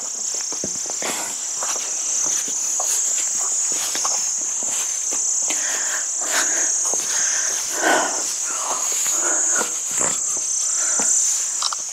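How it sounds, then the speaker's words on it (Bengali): Dense, steady chorus of crickets and other insects shrilling at dusk, a continuous high buzz with occasional footsteps and rustles nearby, no talking. "তো এখানে প্রচুর ঝিঝি পোকা ডাকছে।"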